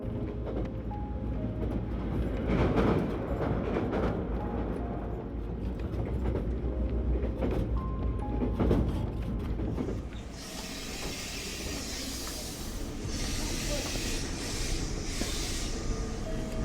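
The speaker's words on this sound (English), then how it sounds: "I just wanted to quickly point out this train. It's actually quite special. It's kind of a electric battery hybrid." An electric battery hybrid train runs along a line in Japan, a steady rumbling roll with hiss, a brief dip partway through, then brighter rushing noise toward the end, moderately loud, with no talk.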